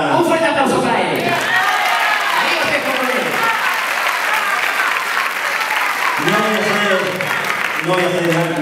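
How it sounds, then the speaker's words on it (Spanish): Loud audience applause at a live dedication event, sustained clapping and crowd noise filling the whole stretch while voices talk over it near the start and end. "¡Un fuerte aplauso para él!"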